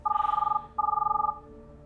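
A telephone bell rings in two close, loud bursts of rapid trilling, then a faint steady hum remains.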